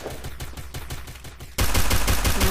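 Gunfire in Garena Free Fire on the Kalahari map, a rapid string of evenly spaced automatic shots that jumps suddenly much louder and denser partway through, with no talk over it.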